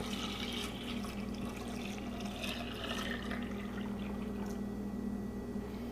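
Milk pouring steadily into a cooking pot for homemade farm cheese, a continuous close liquid splash running the whole time with no talking.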